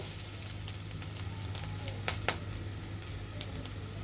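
Fish roe fritters shaped into rounds fry in about three spoons of hot white oil, a soft steady sizzle with a few sharp crackles and pops, no talk.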